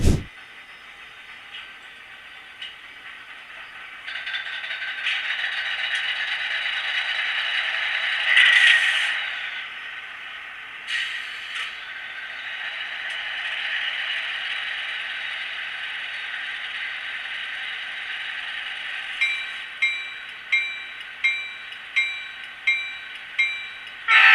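An HO scale model locomotive with a TCS WOWSound decoder: a steady mechanical hum of locomotive noise, a blast of horn, then a series of rhythmic chuffing pulses near the end.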